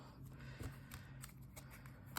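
Tarot cards are shuffled in soft, quiet riffles and taps, close up, with one brighter snap near the end and no talking.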